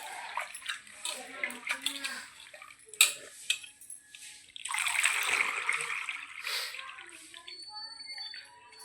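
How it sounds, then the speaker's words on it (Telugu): Finger millet (ragi) is rinsed by hand in a vessel of water, with sloshing, swishing and splashing close by in uneven bursts and clinks of the pot between them. "ఇప్పుడు 2 వంపులు కడిగినా."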